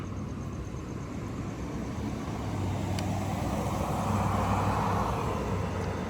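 A car passes on a downtown Los Angeles street at night, its low engine and tire rumble swelling over steady traffic hum and fading after a few seconds.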